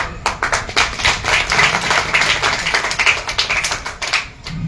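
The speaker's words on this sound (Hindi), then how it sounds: "जैसे कि ताली बजी" An audience at a community gathering claps steadily, many hands striking in a dense, loud burst of applause that continues throughout with no speech over it.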